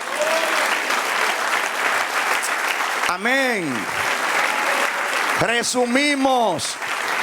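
A church congregation applauds during a sermon: steady, dense clapping fills the room throughout, while voices call out and shout praise over it in two bursts.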